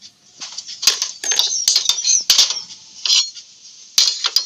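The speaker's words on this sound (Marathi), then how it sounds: "तर आता मग आपण गॅस चालू करू, त्याचे भांडे ठेवूया." A metal cooking pot is set down on a gas stove with a series of sharp, close clanks and scrapes, several distinct hits spread irregularly across a few seconds.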